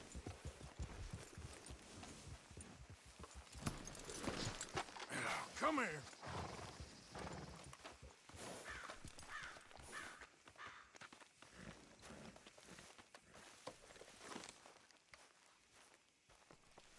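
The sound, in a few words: horses' hooves and whinnying from the video game Red Dead Redemption 2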